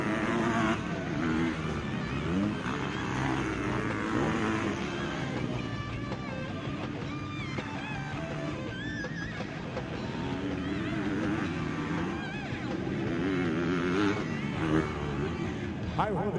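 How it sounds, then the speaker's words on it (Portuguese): Motocross motorcycles racing at a track in Trindade, Brazil: a continuous roar of engines revving and passing, loud and constant throughout, with a commentator's voice over the top. "Aí o Rodrigo Siqueira, o Beiro, vai passando aí, moto 232"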